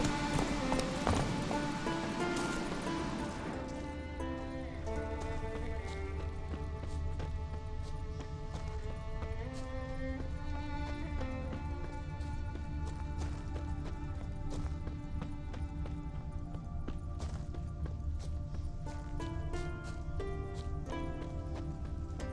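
Roach, the horse in The Witcher 3, gallops with a steady, rhythmic clatter of hooves that runs close and continuous under a layer of game music, with a rider's brief shout near the start.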